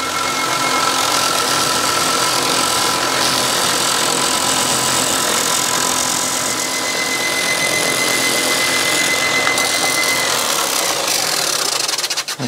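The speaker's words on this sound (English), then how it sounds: "And now we're going to sand them in." A power sander runs against a laminate countertop being modified inside a camper. It gives a steady, loud, continuous whirring grind that holds for the whole stretch with no talking.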